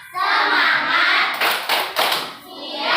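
Schoolchildren chant in unison during a classroom "tepuk konsentrasi" clapping drill. A few crisp group claps cut in halfway through, close and loud, and the voices carry on around them.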